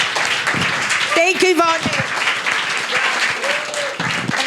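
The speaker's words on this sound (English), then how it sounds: "A big applause to her." Applause from an audience at a New York University event, a steady wash of clapping running through the whole moment with a voice speaking briefly over it.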